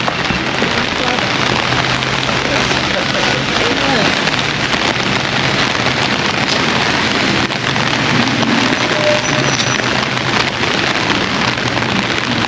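Steady heavy rain falls in the centre of Gramado, a dense, even hiss of drops on surfaces that stays loud and close without a break.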